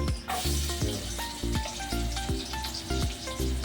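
Garlic and onion sautéing in a pan for spare ribs humba, a steady loud sizzle with intermittent stirring scrapes and clinks of a utensil against the pan, no talking.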